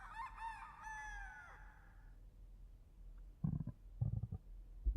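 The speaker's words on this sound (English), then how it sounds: "In the backyard, the rooster crowed in the morning." Within a dark mystery visual novel, a rooster crows once, a loud wavering cock-a-doodle-doo heard close by. Soft low thumps and rustling follow it.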